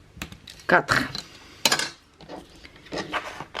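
Paper being cut for a handmade Christmas album, with a few short crisp scraping snips and rustles amid light handling noise and quiet talk.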